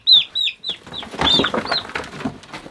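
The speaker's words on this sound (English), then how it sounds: "These older chickens, these older turkeys" Older chickens and turkeys clucking and squawking loudly at close range, a quick string of sharp high calls followed by a busier overlapping jumble of clucks, in a barn setting.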